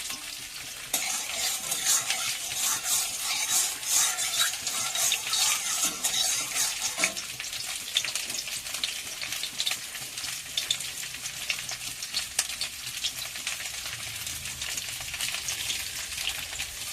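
Bitter gourd and potato frying in a hot wok, a steady loud sizzle with bright crackling spatter and occasional stirring scrapes throughout, no voices.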